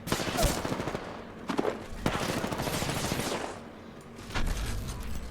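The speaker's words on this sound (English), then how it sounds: "They're shooting at me." Video game gunfire in an arena match, dense bursts of rapid shots close and loud, with footsteps and a voice talking over the firing.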